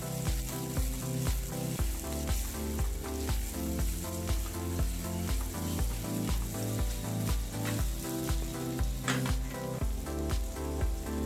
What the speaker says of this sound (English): So we're going to saute our vegetable first in our onions, julienne, okay?